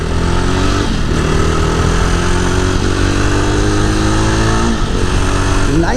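A Jawa 42 Bobber motorcycle engine revs and climbs through gears, steady and loud up close, pulling away with rising and falling pitch, no talking.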